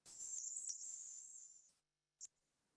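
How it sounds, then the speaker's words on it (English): Black-and-white warbler song: a thin, very high-pitched run of notes lasting under two seconds, followed by one short high chirp, faint against quiet. "the black and white warbler has a very high-pitched sound"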